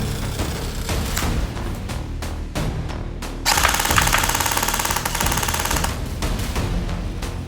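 An LKCJ gel blaster toy gun fires gel balls in rapid bursts, sharp mechanical clatter like a small machine gun, louder and more continuous in the middle stretch, with no talking.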